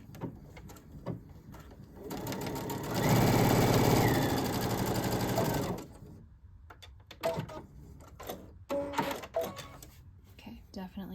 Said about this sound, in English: I'm just going to go ahead and sew the sleeve up